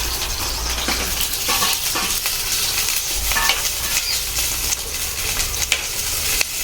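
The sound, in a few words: onions frying and being stirred in coconut oil in a pan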